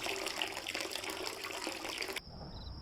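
Water flows and gushes steadily in the adventure game Dead Synchronicity: Tomorrow Comes Today, a continuous loud splashing stream that cuts off abruptly, leaving a thin electronic tone.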